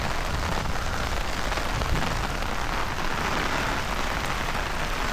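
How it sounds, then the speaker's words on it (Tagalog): Heavy rain pouring steadily at Osaka Castle in Japan, a dense, constant hiss that fills the whole stretch with no voices. "Ang lakas na ng ulan."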